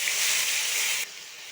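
Ground spice paste with black cumin and green chilies hits hot oil in a wok, a loud bright hiss that cuts down abruptly to a quieter steady sizzle after about a second; no talking.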